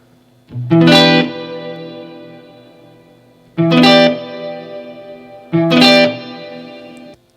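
Three strummed guitar chords ring out through a Black Country Customs Secret Path shimmer reverb pedal in enhanced mode, each bright attack followed by a long, lush, slowly fading tail.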